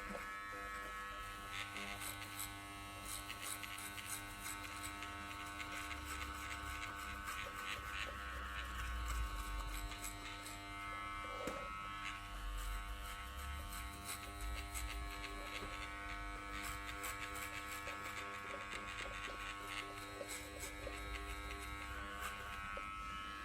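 Electric hair clippers set to a grade 2 cutting the back and sides of a men's haircut, a steady close buzzing hum that runs throughout with faint crackle as hair is cut, with no talking.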